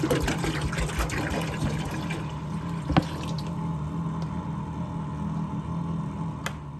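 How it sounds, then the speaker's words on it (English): Water is poured into the tank of a Cumulus fog machine, a steady close trickle and gurgle of filling liquid with a faint clink partway through, no voices. "I'm gonna go ahead and add more water"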